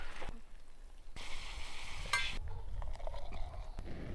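Coffee boiling in a pot on a camp stove in New Zealand, a steady bubbling sizzle that rises and falls with brief clinks, close and alone without talk.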